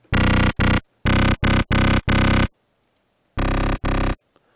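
Electro bass synth patch designed in Native Instruments Massive, played as loud, buzzy, distorted stabs in a choppy rhythm of several short bursts, a pause, then two more hits.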